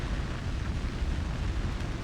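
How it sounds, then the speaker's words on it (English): A burning building in the video game Like a Dragon Gaiden gives off a steady, loud, broadband roar of flames with a low rumble and no pauses. "Shishido, the building's on fire."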